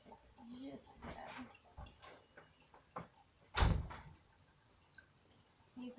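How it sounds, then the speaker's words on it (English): A door slams with a sharp, loud thud partway through, following softer knocks and shuffling in a quiet room, with low background noise and faint voices. "Every time you slam the door, just work."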